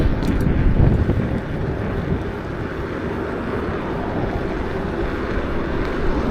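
Steady wind roars and buffets across the microphone while riding outdoors, a continuous broadband rush with a brief stronger gust near the start and no talking.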